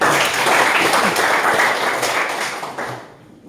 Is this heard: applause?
yes